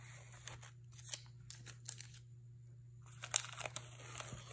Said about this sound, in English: Okay, let's take the tape off.